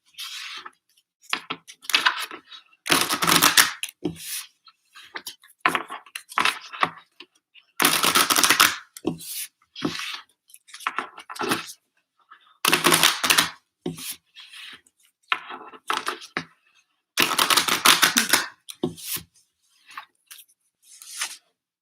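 Tarot cards being shuffled: bursts of papery riffling and rubbing repeat every few seconds, with softer shuffling and tapping between them, close and fairly loud, no voice.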